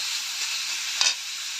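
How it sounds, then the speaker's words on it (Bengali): Beetroot and carrot stirred and frying in hot oil, a steady close sizzle with one brief louder scrape of stirring partway through, no voices. "একটু নেড়ে চেড়ে নিচ্ছি"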